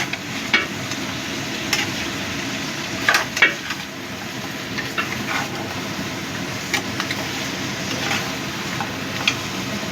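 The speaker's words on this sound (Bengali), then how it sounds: "মাথাগুলো এর সাথে মিশিয়ে দেবো" Fish heads being stirred into moong dal in a wok, with a continuous low sizzle and scattered scraping knocks of the spatula, close and steady throughout.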